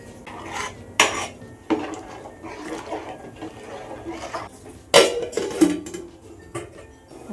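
Metal pot and utensil clatter while rice and salt go into a boiling pot of Dindigul thalapakatti biryani; several sharp clanks and scrapes stand out over a low bubbling background, close and moderately loud.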